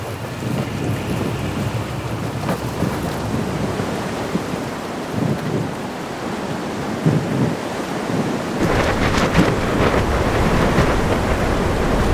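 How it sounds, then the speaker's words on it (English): Winter thunderstorm in the Sarek mountains: a steady roar of wind and storm noise with low rumbles, building to a louder, harsher gust surge near the end, no voices. "I better stay another day and wait for this storm to calm."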